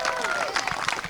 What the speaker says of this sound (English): So let's give the Allred family a round of applause.